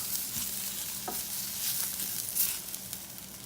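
Onions sautéing in a pan, a soft continuous sizzle with light crackles and the occasional stir, fairly quiet and close, with no voices.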